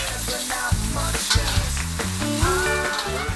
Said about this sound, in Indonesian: Prosesnya kita oseng bakso dan juga telur.